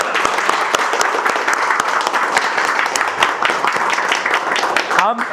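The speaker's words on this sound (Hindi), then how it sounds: "एक बार जोरदार तालियों से साथ शुरुआत करेंगे बैच की" A mobile repair training class gives loud, sustained applause and clapping, dense and steady throughout, with a few voices mixed in near the end.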